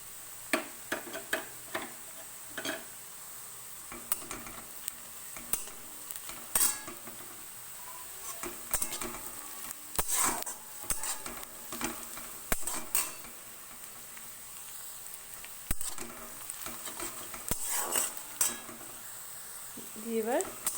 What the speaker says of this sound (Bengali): এবার আমি এর মধ্যে এই আদা কুচিটা দিয়ে দিলাম